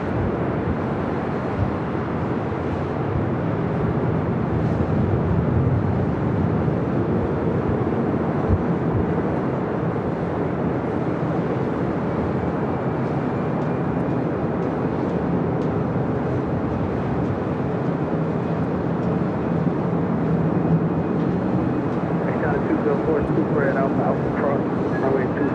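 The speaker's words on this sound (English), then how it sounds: "That Air France 777 taking off on the south side." An Air France Boeing 777 takes off from the south side of LAX, a steady, loud jet roar that holds for the whole stretch, broad and rumbling, with voices talking over it.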